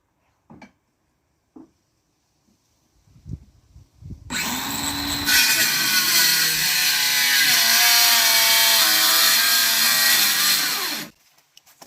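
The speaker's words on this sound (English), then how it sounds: "I'm going to cut this one the same size as this one." A power saw cuts a wooden board for DIY floating shelves. After a few faint knocks and handling sounds, a loud, steady whining cut runs for about seven seconds and then stops abruptly.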